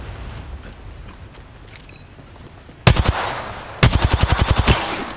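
Automatic gunfire in the video game Apex Legends comes in two loud, rapid bursts: a short volley followed, after a pause, by a longer rattling string of shots over quiet ambience.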